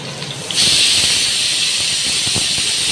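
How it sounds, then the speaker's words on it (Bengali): Hilsa fish, washed and still full of roe, fry on a flat pan with a loud, steady sizzle that bursts in suddenly and holds constant, close and alone. "আমি ইলিশ মাছগুলো ভাজছি"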